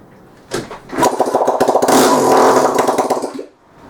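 A rebuilt Kawasaki KXF250 dirt bike gets a kick: a thump, then a brief sputtering four-stroke engine burst that runs rough and loud for a couple of seconds before dying away.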